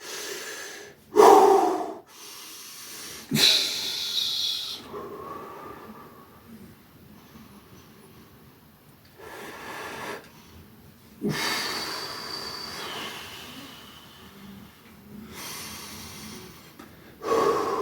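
Heavy breathing during a Bullworker workout exercise: sharp gasping inhales and snorting exhales close to the microphone, coming in separate bursts several seconds apart with quieter breaths between them.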